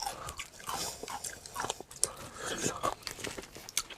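Crunchy Korean fried chicken with a buttery cheese coating being bitten and chewed close to the mic, with repeated crisp crunches and soft mouth sounds while a voice speaks quietly at times.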